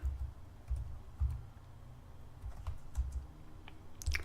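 Keys on a computer keyboard tapped out in short bursts as a command is typed at a Linux terminal, close and fairly quiet, with brief pauses between clusters of clicks.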